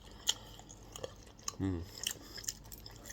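Close, quiet chewing of crunchy dried split squid, a few crisp bites and crunches scattered over a few seconds, with a brief vocal sound in the middle.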